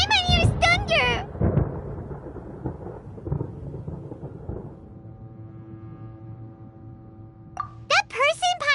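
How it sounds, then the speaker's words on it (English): Deep rumbling thunder in the video game Genshin Impact rolls for several seconds after an opening exchange of speech, fading into a low steady hum before voices return. "Paimon hears thunder!"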